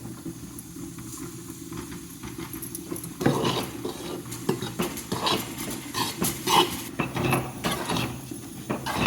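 Roasted wheat flour stirred with melted ghee in a pan for atta ladoo, a continuous scraping and shuffling that turns into louder rhythmic strokes partway through.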